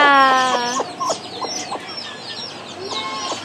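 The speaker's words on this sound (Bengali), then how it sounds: "এই মুরগিগুলো হচ্ছে কুচে মুরগি" Hens in a Bengali backyard poultry setting cluck in short repeated calls, starting with a longer drawn-out cluck and followed by brief intermittent clucks and faint chirps of newly hatched chicks, close and fairly loud with no talking.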